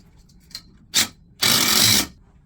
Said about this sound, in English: switch over your bit to another hammer driven system and to install the actual anchor bolt